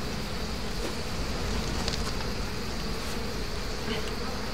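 Steady, dense insect buzzing from a swarm of bees in the video game Trine 2, a continuous drone filling the whole stretch at an even level with no voices over it.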